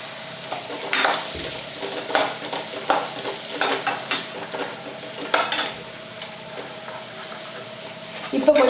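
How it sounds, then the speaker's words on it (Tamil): Onions sautéing with salt in a pan for a potato poriyal, a soft continuous sizzle with intermittent scraping and clinking strokes of a spoon, louder bursts of stirring early on, no speech. "இப்போ கொஞ்சம் வெங்காயம் கொஞ்சம் நல்லா வதங்கணும்"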